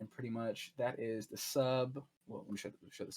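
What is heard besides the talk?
None of the usual background noises is heard.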